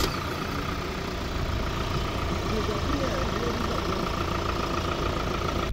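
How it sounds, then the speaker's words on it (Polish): A Ford Transit Custom L1H1 van with the 2.0 EcoBlue 150 hp diesel, front-wheel drive and manual gearbox, runs with a steady, even drone that stays constant and fairly loud throughout. "Jak słyszeliście, silnik głośno pracuje, ale w kabinie nie jest aż tak słyszalny."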